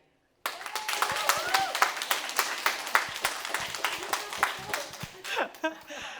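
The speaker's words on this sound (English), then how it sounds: "please clap if you disagree with this motion" Sparse, uneven clapping from a small debate audience voting on a motion, individual claps audible after an abrupt start, with voices talking over them.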